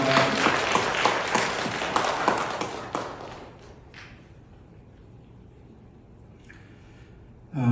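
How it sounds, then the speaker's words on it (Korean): A congregation claps during a church service, a dense burst of applause lasting about three seconds before fading into quiet room tone, with a few faint scattered sounds afterward. "우리 박수로 축복합니다."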